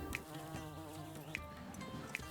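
Bees from the video game Laysara: Summit Kingdom make a soft, continuous droning buzz, faint and steady, layered over tonal game music with a few light clicks and no talk.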